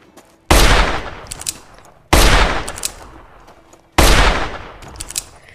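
In the Blade and Sorcery video game with mods, a sniper rifle fires three loud, evenly spaced single shots, each with a sharp crack and a long booming tail.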